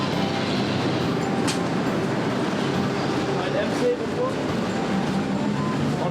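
Steady broadband rumble of a train and rail platform at On Nut station in Bangkok, with continuous mechanical noise, faint clatter and background voices mixed in throughout, loud and close.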